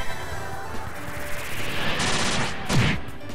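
Airstrike art attack in the video game Trails in the Sky, a loud burst of rapid explosive fire that swells into a rising rush and ends on a sharp crash, with no talking.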